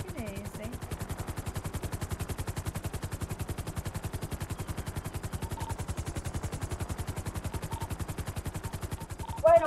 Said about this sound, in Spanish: Yo escuché disparo allá afuera